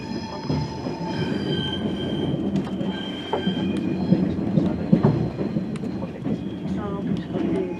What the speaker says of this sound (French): Ah bah c'est la vitesse TGV Ouigo.